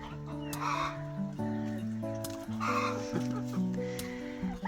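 Hens cluck and chatter in short bursts over a busy background of other birdsong, fairly close and steady throughout.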